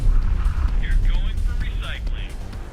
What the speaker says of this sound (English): there's the swarm missiles coming in